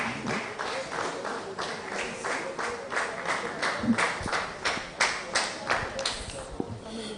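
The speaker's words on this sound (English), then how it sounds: "Please give him a round of applause." An audience at a school debate for International Day of the Boy Child claps for a speaker, producing rhythmic, fairly loud hand claps from many people with voices murmuring underneath.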